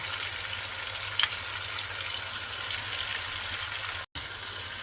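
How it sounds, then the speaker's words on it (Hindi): Chicken with yogurt frying for chicken pulao gives a steady, close, hissing sizzle throughout, with a small click early on and a momentary dropout near the end. "हमने 5 से 6 मिनट तक चिकन की भुनाई करनी है, जब तक कि नाइस खुशबू ना आना शुरू हो जाए।"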